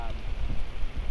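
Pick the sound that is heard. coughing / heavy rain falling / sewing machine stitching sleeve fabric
heavy rain falling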